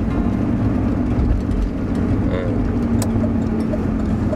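A Chevrolet Camaro drives after the winter, and its engine makes a steady low hum throughout as the car cruises along. There are faint cabin noises and no clear revs.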